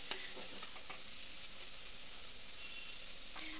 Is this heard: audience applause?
no